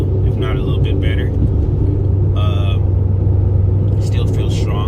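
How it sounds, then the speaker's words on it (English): A Chevrolet Camaro SS cruising on the road after getting water in its engine, a steady low engine drone and road rumble from inside the car, with occasional brief higher tones layered over the hum. "Car's running as fine as, you know, usual, if not a little bit better."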